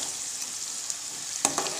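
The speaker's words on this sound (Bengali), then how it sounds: "লো ফ্লেমে রসুনটারে একটু সুন্দর স্মেল হওয়ার লাগি বাজিয়া" Garlic frying gently over a low flame gives a steady, soft sizzle that runs the whole time, with a couple of faint clicks near the end.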